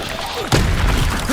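A Bombarda blasting spell goes off in Hogwarts Legacy: a sudden heavy thud and boom lands midway, followed by a rumbling, noisy tail.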